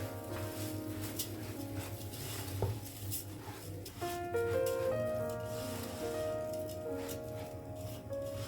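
Rice being dry-roasted in a pot, with scattered scraping and clinking of a metal spoon against the pot over a low background hum, fairly quiet and close.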